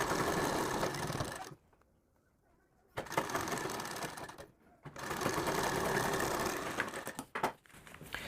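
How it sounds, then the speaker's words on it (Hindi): A sewing machine stitches a matching fabric strip onto a sleeve, running in three steady whirring bursts separated by short pauses, close and clear with no voices. "आपको यहाँ पर इसमें ऐसे करके सिलाई लगानी है।"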